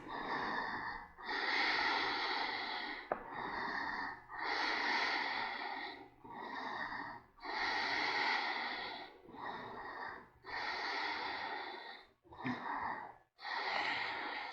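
Deep, slow breaths during yoga practice, a repeated cycle of long airy inhales and exhales about every second or two, close and steady with brief pauses between.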